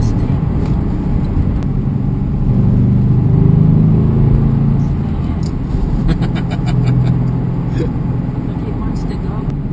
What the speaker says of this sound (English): This one you can't even really put so much gas. No, you can't. It spins the wheels.